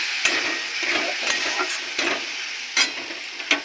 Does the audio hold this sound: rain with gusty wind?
no